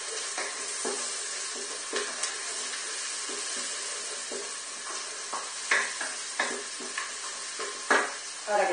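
Flour toasts in a pot for squid tips in sauce. A soft sizzle runs underneath while a spoon scrapes and stirs in irregular strokes, and the stirring grows more vigorous toward the end. The sound is close, with no talking.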